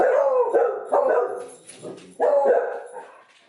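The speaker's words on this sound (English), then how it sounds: "the dog's gonna bark" A dog barks repeatedly indoors, several loud close barks in bursts with short pauses between them.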